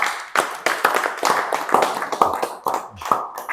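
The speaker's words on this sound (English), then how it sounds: "please, can we just give a round of applause for them?" Close, loud hand clapping from a small group, sharp irregular claps in quick succession that stay strong throughout.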